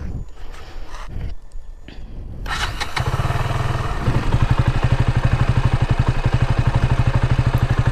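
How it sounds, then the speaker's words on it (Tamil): KTM Duke 200 BS6 motorcycle engine starting up and then revving, the exhaust settling into a loud, steady rapid pulsing close by with no talk over it. "நம்ம BS6 டியூக் 200 பார்த்தீங்கன்னா சவுண்டு"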